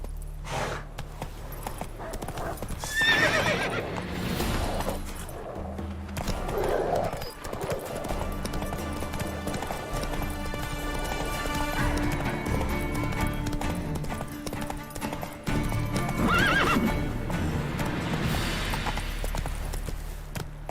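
Roach the horse in The Witcher 3 gallops with steady clip-clopping hoofbeats under a game score, and a whinny breaks through now and then. Light voice and game effects sit in the background.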